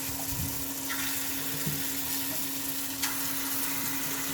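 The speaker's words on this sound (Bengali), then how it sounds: "এবার এগুলোকে আমি গোল গোল করে বড়া শেপে কিন্তু ভেজে নেব।" Lentil fritters (dal bora) frying in a little oil on a griddle give off a steady, close sizzle with a constant low hum underneath and a few soft clicks, with no talking.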